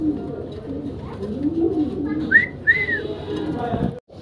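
Russian Bolgar pigeons give low, rolling coos close by, broken by two short, rising whistle-like notes near the middle.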